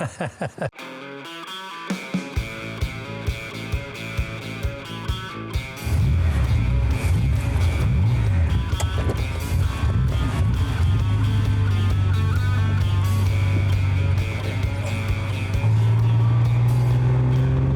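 A car drives along the road, its engine starting up with sharp knocks before settling into a steady, loud, close cabin drone with a rising low hum toward the end.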